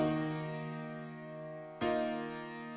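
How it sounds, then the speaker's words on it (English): Sustained piano chords with a reverse effect ring with steady harmonic tones, fading slightly, then a second chord swells in abruptly and holds, moderately quiet and alone without speech. "Then we also have some piano chords with this reverse thing."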